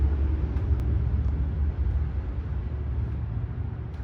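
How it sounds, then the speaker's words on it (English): Road traffic beside a roadside in Waynesboro, North Carolina: a steady low rumble of passing vehicles, continuous and fairly close, with no voices. "Sorry for the noise, I'm right beside the road."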